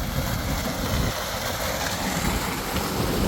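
Water rushes steadily along a concrete irrigation channel beside rice fields, a continuous broadband wash with some wind buffeting the microphone, and no talking.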